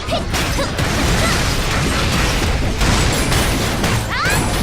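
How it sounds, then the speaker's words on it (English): An explosion in the PC game Soul Worker erupts as a dense, loud crashing roar with rumbling debris and mechanical clatter that fills the whole stretch. "that explains the explosion"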